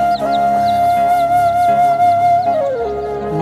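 Silkie hen settled with her two chicks, giving off repeated faint, high peeps spread through the moment over a steady, droning background tone, with no voices.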